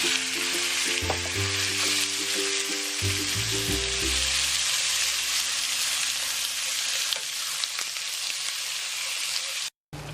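Chicken frying in a preheated pan gives a loud, continuous close-up sizzle, with low humming tones at the start and a brief dropout near the end; nobody speaks.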